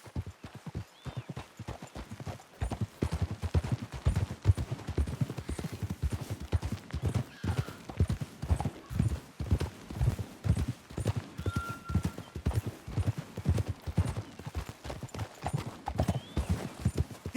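Horses trotting in the video game Red Dead Redemption 2, a steady, close run of hoof clip-clops carrying on without a break, with a brief neigh in the mix.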